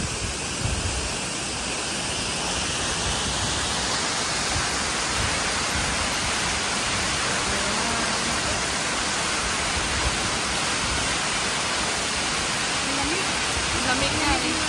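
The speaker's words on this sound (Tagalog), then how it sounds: "Ramdam na ramdam mo yung tubig, talsik ng tubig." A waterfall pours steadily with water splashing nearby, a loud, continuous broadband rush that stays even and dense from start to finish.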